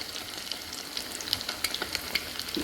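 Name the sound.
egg cutlets frying in oil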